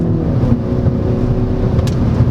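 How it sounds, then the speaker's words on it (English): A 2022 Mini Cooper S Hardtop 4 Door's 4-cylinder engine pulls hard after a downshift, a loud, steady, close drone that holds strong throughout with no talking. "And you downshift, and it goes."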